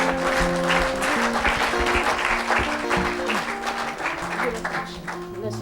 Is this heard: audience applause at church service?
yes